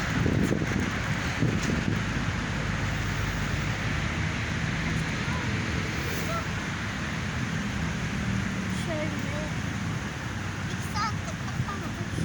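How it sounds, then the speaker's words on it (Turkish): Strong, cold wind gusting steadily outdoors in a park, a continuous broadband rush with heavy low rumble against the microphone across the whole stretch. "dışarısı çok soğuk ve çok aşırı derecede esiyor"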